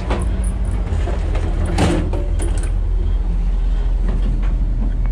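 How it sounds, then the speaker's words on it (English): A sliding door on a steam train carriage at Buckeye Lake rumbles and clatters open, with a sharp knock near the middle, over a steady low engine and rail drone. No one speaks. "Here's that sliding door."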